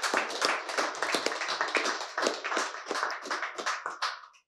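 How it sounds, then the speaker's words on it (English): A room of sneaker history panel attendees claps for Myron Johnson in quick, bright bursts of applause for about four seconds before it stops abruptly. "Let's have a round of applause for Mr. Myron Johnson."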